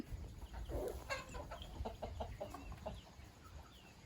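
Chickens cluck in a farm coop at a Thai rural home, a steady scattering of soft clucks and short calls close by over low background noise, with no talking.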